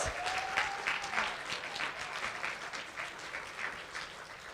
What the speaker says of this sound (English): I just want to give a big round of applause to the team